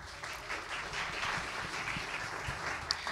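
A conference audience applauding to welcome a speaker onto the stage, dense steady clapping from many hands filling the room at an even level throughout, with no one talking over it.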